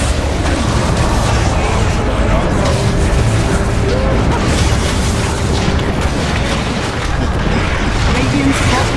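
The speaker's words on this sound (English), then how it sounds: "Radiant's bottom tower is falling" Dota 2 battle din with deep booms and explosive bursts as a tower comes down, dense and loud throughout, an announcer voice over it.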